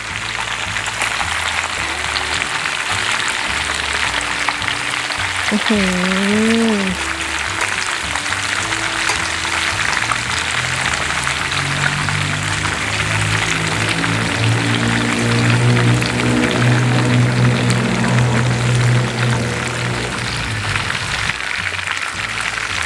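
Minced pork patties with garlic and pepper fry in hot oil in a pan, giving a steady, dense sizzle that swells in the second half, with a brief voice and a few tonal sounds over it.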